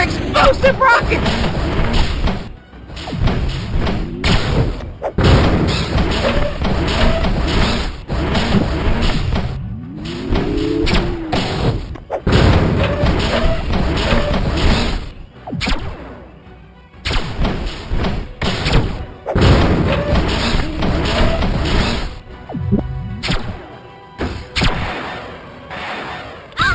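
Explosive rockets in LEGO Legends of Chima: Laval's Journey on the 3DS, repeated heavy thumping blasts and booms in bursts with short silent gaps between, alongside game effects and occasional character voices.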